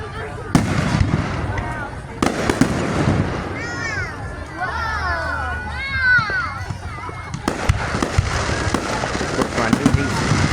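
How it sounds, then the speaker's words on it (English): Fireworks at a town display in Booneville, heard as repeated bursts and crackling pops across the clip with crowd chatter and voices talking throughout. "she's getting her first fireworks show"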